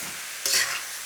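Torn mushrooms hit a hot pan for a Thai chicken stir-fry and get moved around, giving a short, close burst of bright sizzling hiss that swells and then eases off over a quiet background.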